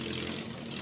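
A 1948 Steyr tractor engine runs steadily at a beach race event, giving a loud, continuous, close-up low chugging drone with no talk over it.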